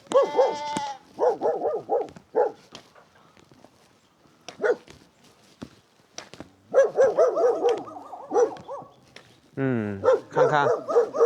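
Two farm dogs in a secluded Hunan mountain village bark in clustered bursts with pauses between, while a goat's quavering bleat rises near the start and end and people talk nearby.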